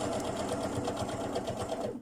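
A sewing machine runs steadily, stitching an invisible zipper onto a skirt, its rapid needle chatter continuous and close throughout.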